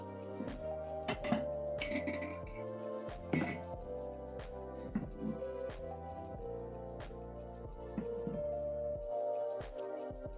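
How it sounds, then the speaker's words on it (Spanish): Salad being stirred and tossed in a glass bowl with metal utensils, giving close, bright clinks and scrapes in an uneven rhythm that runs for several seconds, with no talking. "La vamos a revolver para mezclarla bien."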